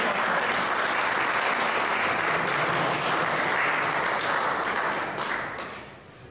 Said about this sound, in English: may I have a huge round of applause for a man who gained his Class 1 referee ticket this very day